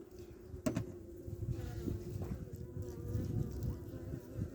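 Honeybees buzzing on a frame pulled from a small five-frame hive heading into winter, a close, continuous droning hum with a few louder passes near the ear.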